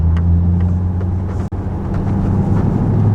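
Camaros idling and rolling along a country road into Beach Bend Park, a steady low engine drone heard from inside a vehicle with a brief thump midway.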